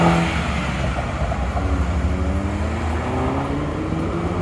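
A car bought from the UK pulls away and accelerates, its engine note rising and then drifting off through a steady broadband roar, with no voices.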